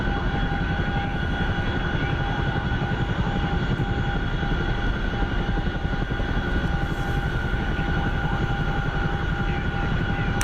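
C-130J turboprop engines drone in a flight simulator combat game, a loud, unbroken roar with steady propeller whine and tonal hum, constant for the whole stretch with no talk.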